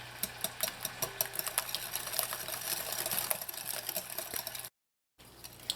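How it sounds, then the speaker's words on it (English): Eggs are whisked into creamed butter and sugar for coconut rolls. A whisk taps and scrapes quietly against the bowl in a quick rhythmic series, with a brief pause near the end. "add in your eggs and whisk"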